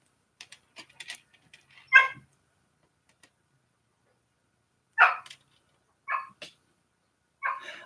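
A dog throwing a fit in another room gives several separate, muffled barks and yelps spread across quiet gaps, with faint clicks and rustles close by.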